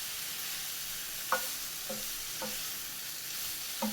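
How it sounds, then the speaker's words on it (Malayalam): Marinated soya chunks being stirred in a frying pan, a steady soft sizzle with a few light scrapes and taps of the spoon against the pan at irregular intervals, close by. "മാരിനേറ്റ് ചെയ്ത് വെച്ചിരിക്കുന്ന സോയ ചങ്ക്സ് ചേർത്ത് കൊടുക്കാം. ഇനി ഇത് നല്ലതുപോലെ ഇളക്കി മിക്സ് ചെയ്യാം."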